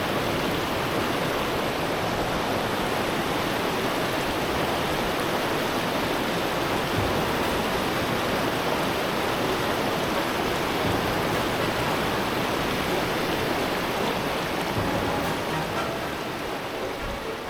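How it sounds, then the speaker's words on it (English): Fast-moving waterfall water roars in a dense, constant rush, loud and close, steady throughout with no voices. "But that is some fast moving water."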